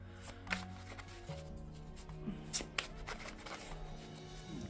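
Good Fortune Tarot cards being shuffled in a soft, continuous riffling patter, with light taps and rustles throughout, close and fairly quiet.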